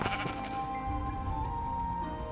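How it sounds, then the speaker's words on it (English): Sheep bleating in the video game Minecraft, a couple of wavering bleats near the start over a steady low game ambience with no talk. "I keep taking these sheep"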